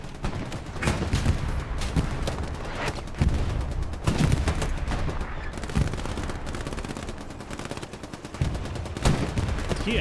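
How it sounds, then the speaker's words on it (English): DP machine gun fire in the World War II shooter Hell Let Loose, with dense, loud bursts of automatic gunfire rattling almost continuously against other battlefield shots. "getting shot at though by that DP gunner"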